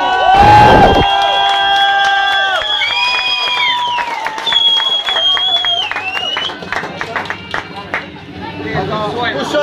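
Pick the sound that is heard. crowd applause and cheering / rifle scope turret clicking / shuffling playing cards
crowd applause and cheering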